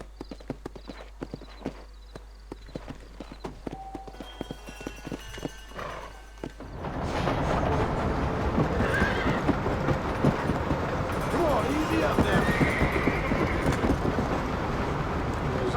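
Hooves clip-clop in a sparse rhythm at first, then a steady, loud galloping rumble takes over, with a horse whinnying amid the pounding, in the video game Red Dead Redemption.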